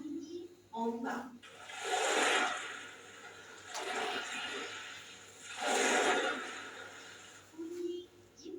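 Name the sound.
ocean waves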